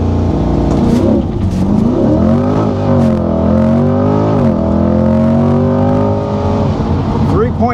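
A C8 Corvette in Track Mode accelerates hard under launch control, its engine roaring loud and close and climbing through rising revs with shifts, and a voice speaks over it.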